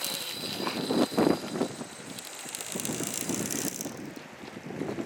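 A fishing reel casts a lure from a pier outdoors, with mechanical ratcheting clicks and a brief louder burst early on, all under steady gusting wind noise on the microphone and no talking.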